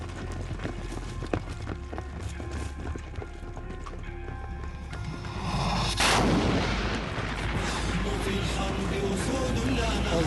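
Gunfire and a bomb detonation from a terrorist weapons and explosives demonstration: scattered sharp cracks, then a loud blast midway that gives way to a sustained, noisy rumble.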